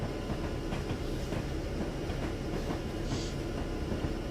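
Steady running noise of a WP F7 diesel locomotive in Train Simulator 2016 on the Feather River Canyon route: a constant low rumble with faint rail clatter and hiss, continuous throughout with no talking.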